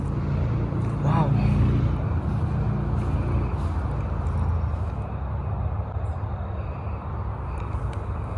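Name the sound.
motorway traffic noise, passing cars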